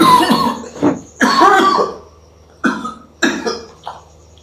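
A person with a dry cough coughs several times in dry, harsh bursts, two longer fits followed by shorter single coughs, close and loud.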